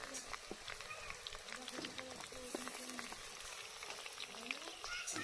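Chopped onion, bay leaves and ground spice paste sizzle in hot oil in a pan for a chicken and pumpkin curry. A steady crackle runs throughout while a voice talks over it.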